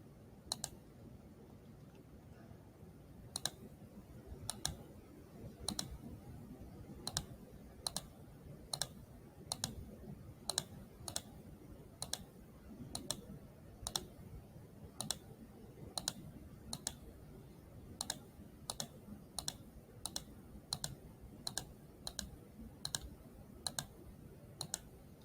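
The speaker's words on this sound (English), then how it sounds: "You'll hear a lot of clicking on my mouse" Computer mouse clicking steadily while tracing shapes with a polyline tool in Google Drawings: sharp, evenly spaced single clicks about once a second, close and fairly quiet over a soft low background hum, with no talking.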